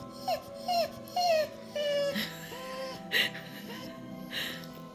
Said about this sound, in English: The puppy tears are so real right now.